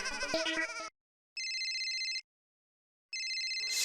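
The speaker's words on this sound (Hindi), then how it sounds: "सेठ धनराज सिंघानिया जी का फोन" A phone ringtone chirps in two steady bursts separated by silence, following a short melodic tone at the start; no voices.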